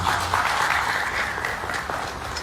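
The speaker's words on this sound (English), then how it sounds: "Please give yourself a round of applause at this stage." Audience applause at a police closing ceremony for community policing and advanced law enforcement training, a steady dense wash of clapping filling the room without a break, with only faint voices beneath.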